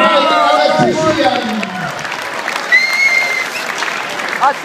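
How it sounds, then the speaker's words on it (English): Audience applause after an amateur boxing bout, a crowd clapping and cheering in a hall, with an announcer's voice at the start and shouts over the ongoing applause. "And the round of applause also for Abdullah Al-Wandawi, please."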